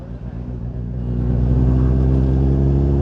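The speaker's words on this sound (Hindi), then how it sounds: "और ये सर अपनी CBR को फुल ऑन भगाते हुए" A Honda CBR sports motorcycle ridden hard on a road near Rishikesh, its engine droning with a steady, rising roar that swells and stays loud and close through the end.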